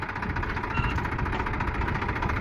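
Steady, throbbing drone of a tractor engine working in a cotton field, a continuous mid-pitched idle with slight knocking vibration and no break.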